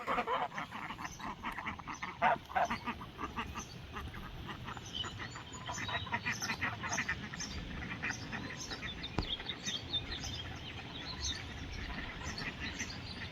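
Farm ducks heading over to a garden pond, with steady raspy quacking and chattering calls throughout, fairly close and moderately loud against faint outdoor background.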